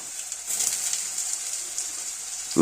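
Small eggplant pieces go into hot mustard oil and fry with a steady soft sizzle, close up and fairly quiet, with a brief clatter at the very end.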